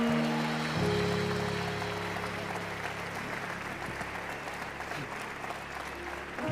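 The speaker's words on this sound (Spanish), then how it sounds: "Denle fuerte, dale ese fuerte aplauso al Rey." A church congregation applauding loudly: a sustained, dense wash of clapping that swells briefly at the start and holds steady, with faint tonal hum beneath.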